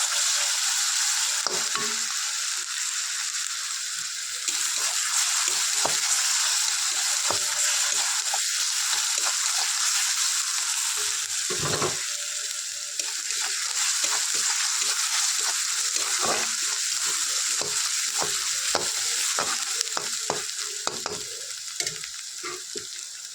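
Grated onions hit a very hot wok for a Bengali yogurt fish curry. They give a sustained, bright, hissing sizzle, near and loud, broken by frequent clatters and scrapes of a spatula moving them around.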